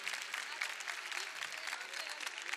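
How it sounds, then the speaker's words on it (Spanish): Audience applause at a drag gala in Corralejo, a dense, steady clapping from a crowd that holds evenly throughout with no clear voices. "me gustaría que brindasen un aplauso a este maravilloso equipo de iluminación y sonido"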